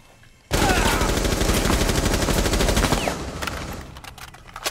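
Video game gunfire bursts out suddenly as a loud, dense barrage of rapid shots, like automatic weapons firing together, then tapers into scattered fainter shots and echoes.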